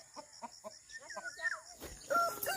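Chickens outdoors in a rural province yard give a run of short rhythmic clucks, then a rising squawk, close and fairly faint, with a voice briefly under them.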